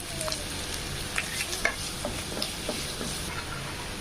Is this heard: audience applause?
no